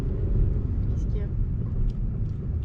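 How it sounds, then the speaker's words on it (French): A car engine hums and rumbles steadily during a driving-test lesson as the learner shifts gear, a low continuous drone with voices talking over it. "accéléré pendant que tu passais ta vitesse, c'est pour ça"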